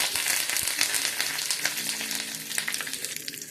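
Green chillies and curry leaves crackle and sizzle in hot oil for a tempering, a busy spitting hiss with sharp pops that settles slightly toward the end.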